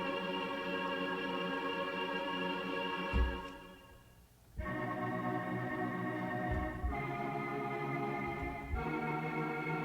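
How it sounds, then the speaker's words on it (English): Vocal snippet stretched into a sustained granular pad in Arturia Pigments, a dense steady tone with layered harmonics, briefly dropping out midway and shifting pitch in a few stepped changes. "drop it into a granular synthesizer."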